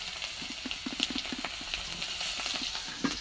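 Onions frying in a wok of mustard oil alongside fish and panch phoron make a quiet, close crackle with scattered small pops and sputters.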